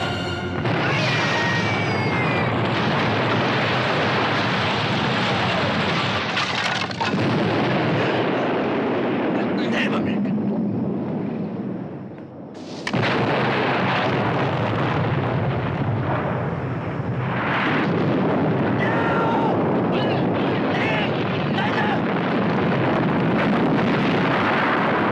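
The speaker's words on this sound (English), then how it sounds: "It's a bomb!" Bomb explosion in an action film: a dense, loud roar of blast and crashing debris fills nearly the whole stretch, dips into a brief lull midway, then surges again, with voices shouting underneath.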